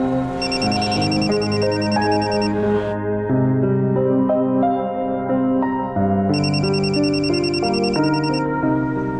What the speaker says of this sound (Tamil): உனக்கு ஃபோன் வருது.